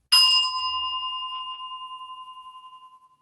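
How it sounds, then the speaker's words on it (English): A singing bowl is struck once in a quiet classroom yoga session, giving a clear metallic ding that rings on with steady overtones and a slow beating shimmer as it fades over about three seconds, close and alone. "I'm going to ring my singing bowl"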